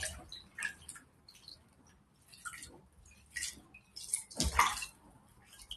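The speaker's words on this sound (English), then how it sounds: "Let's go ahead and rinse them off now." Water splashes and drips as cactus plants are rinsed, with faint irregular trickles and patters that build to one louder splash near the end.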